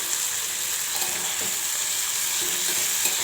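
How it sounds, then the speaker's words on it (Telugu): Vegetables and curry leaves sizzle steadily in hot oil for a village-style sambar dal, a constant bright frying hiss with faint stirring scrapes, close and uninterrupted with no talking. "ఇప్పుడు వీటిని ఆయిల్ ఆయిల్లో మగ్గించుకోవాలి నేనైతే కరివేపాకు కూడా వేసేసుకుంటున్నాను"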